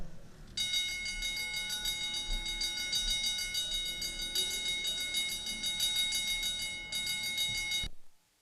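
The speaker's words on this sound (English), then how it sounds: "Mr. Clerk, why don't you ring the bell?" A continuous electric bell rings loudly and steadily for about seven seconds in the Georgia House of Representatives chamber, then stops abruptly.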